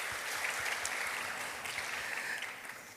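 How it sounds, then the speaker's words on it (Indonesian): A church congregation at a Sunday service gives steady, dense clapping, fairly distant and even, easing off slightly toward the end. "tepuk tangan dulu buat mereka"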